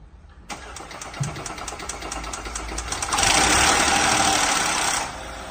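The engine of a Volkswagen Touareg cranks with a rapid ticking starter and catches. It then revs up into a loud, steady roar close by before settling slightly.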